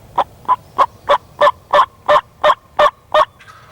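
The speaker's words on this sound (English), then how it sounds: "he was answering our calls directly now" A wild turkey gobbler gobbles in answer to hunters' calls, loud and close: ten rapid, evenly spaced rattling gobble notes in a steady rhythm, with no talk.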